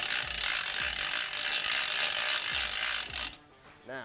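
A pontoon boat trailer winch ratchet is cranked in a quick series of clicking pawl strokes, close and moderately loud, before stopping into near quiet.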